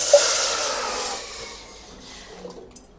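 Three measured bowls of water poured into a pot for a semolina medu vada batter, a steady broad rushing splash that starts strong and gradually thins and quietens toward the end.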